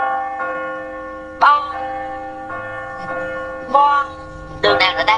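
Church bell tolling in The Walking Dead video game, several loud ringing strikes spaced a second or two apart with long humming decays, the last strikes coming faster and clustered together.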